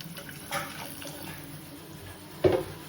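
Water is poured into a cooking pot for Maggi noodles in a home kitchen, giving two short, faint splashes against a quiet background.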